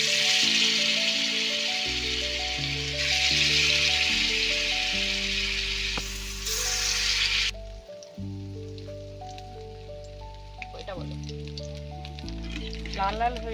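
Paneer tikka fries in hot oil with a loud, continuous sizzle and crackle, close up, while background music plays underneath.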